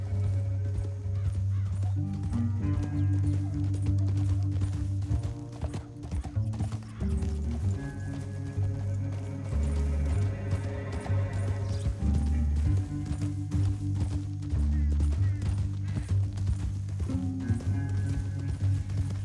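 Horse hooves gallop steadily in Red Dead Redemption 2, a continuous rapid clip-clop under a low, droning musical score, with occasional faint whinnies and no talk.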